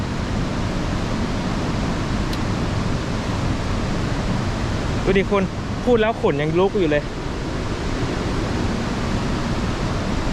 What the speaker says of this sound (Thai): คือเสียงน้ำตกอะ่ะ น่าจะใหญ่มากเลยนะ